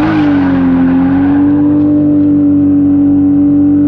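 A car engine revs hard and holds a high, steady whine as the clutch gives out, loud and close, the pitch dipping slightly then staying flat with no talk over it.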